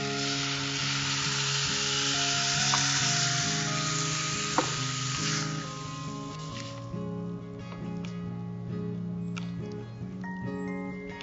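Onions and ground chilli paste sizzle steadily in a hot pan for a long stretch, with occasional stirring clinks and a brief sharper clack midway, close and continuous.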